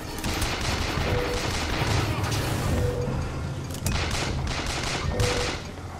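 Gunfire in the video game Bioshock Infinite: a continuous volley of shots and bursts with occasional heavier cracks, loud and close, with a brief voice in the mix.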